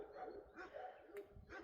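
Neighbours' dogs bark a few times at a distance outdoors in rural Bulgaria, faint and scattered short yaps over light background noise.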